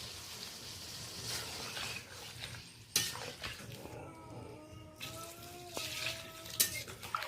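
Water poured into a pan of prawns cooking with yogurt, a short rush and splash followed by clinks of a dish and utensils and a softer simmering hiss, with a faint high tonal squeal near the end.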